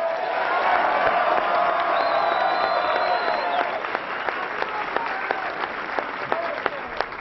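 Small-business audience in Hudsonville, Michigan applauding a Ron Paul speech: dense, steady clapping from a nearby crowd that holds strong for several seconds, then thins into scattered individual claps, with faint voices mixed in.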